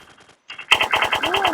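A favorite gun in the video game Special Force fires a rapid automatic burst of sharp, evenly spaced shots, loud and close, after a few faint earlier pops and a brief silence.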